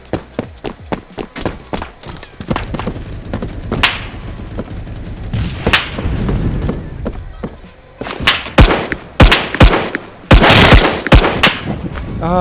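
Gunfire in the Roblox shooter Phantom Forces, sharp cracking shots in bursts and single reports at varying distances, loud and irregular, with thuds and movement between them and no talking.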